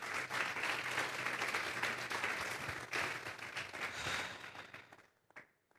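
A church congregation breaks into loud, sustained applause during a Spanish-language sermon, a dense wash of clapping that holds steady for several seconds before thinning out and fading at the end.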